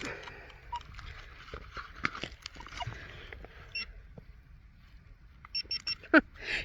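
A Minelab Equinox 900 metal detector sounds a few short, high electronic beeps while sweeping bushland near an old homestead, with faint rustling and handling noise between the tones.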